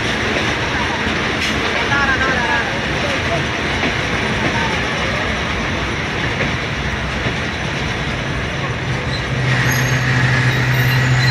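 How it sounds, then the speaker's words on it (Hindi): The Khyber Mail train pulls into Jehangira Road station at night, a loud continuous rumble of rolling wheels and carriages with faint squeals, heard from on board with voices talking underneath. "ट्रेन हमारी जहांगीरा रोड रेलवे स्टेशन पर पहुंच चुकी है"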